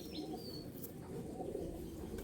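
A pair of Andhra Kalanka pigeons, one a female, coo steadily in a low continuous murmur close by, with a few faint higher chirps over the top and no talking.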